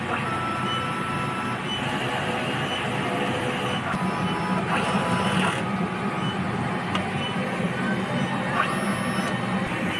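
A DTF printer running a head clean cycle, with a steady mechanical hum and faint whirring, occasional brief clicks and shifts in pitch over the drone.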